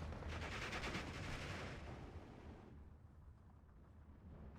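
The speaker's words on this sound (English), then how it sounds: "Oh, this is a cannon." A cannon firing in the WWII strategy game Steel Division 2 on the Orsha East map, a loud sustained rumbling blast and roar of gunfire that fades away over a few seconds.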